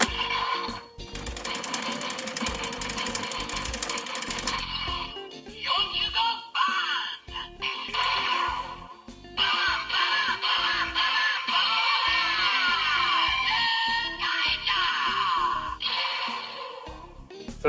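A DX EnyaRideon toy gear cleaner plays the electronic sound effect for the Zenkaiger 2022 Special Edition gear, a loud, busy stretch of chiming tones, buzzing and announcer-style sounds running almost continuously, with short breaks.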